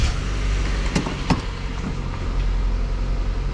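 Road noise and a low engine drone fill the cabin of a Mazda Miata soft-top being driven, with a couple of brief clicks or knocks near the start and no talking.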